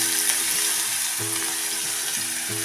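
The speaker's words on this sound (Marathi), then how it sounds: "हा कांदा आपण चांगला भाजून घ्यायचा आहे" Onions frying in oil with asafoetida and curry leaves give a steady, close sizzle with a faint recurring low tonal hum beneath it, with no one speaking.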